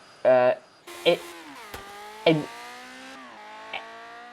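Turbine-powered Type 56 race car at the Goodwood Festival of Speed, heard as a high whining whoosh with no exhaust note, rising and falling in several swells as it passes, with faint crowd or commentary in the background.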